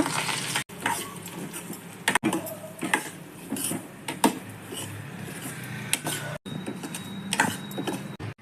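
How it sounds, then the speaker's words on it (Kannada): Semolina being stirred and roasted in hot ghee in a pan, a steady close scraping and rustling with faint frying crackle throughout, broken by a few brief pauses. "ಈಗ ತೆಗೆದಿಟ್ಕೊಂಡಿರೋ ರವೆ ಹಾಕಿ ಹುರ್ಕೊಳ್ಳೋಣ."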